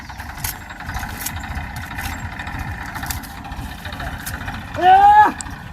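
A tractor engine rumbles low and steadily throughout, with people talking nearby and a brief louder rising whine near the end.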